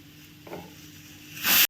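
Pressure cooker on a kitchen stove during Marathi fasting-day vada and amti cooking, releasing a short loud burst of steam hiss at the end after quiet background hum, with no talking.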